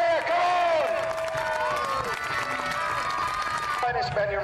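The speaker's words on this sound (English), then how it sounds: "Give them a cheer" Outdoor crowd at an English Civil War reenactment grand parade cheering for the Marquess of Winchester's Royalist regiment, a loud sustained roar of voices and whoops close by, with shouted speech mixed in.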